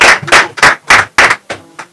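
Audience claps in a quick, loud run of about seven sharp, evenly spaced claps that slow slightly toward the end.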